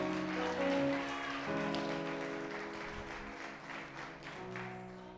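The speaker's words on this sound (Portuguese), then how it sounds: "Aplaude a Jesus aí" Congregation applause in an evangelical church service, a faint, diffuse patter of clapping underneath sustained keyboard music, no voices over it.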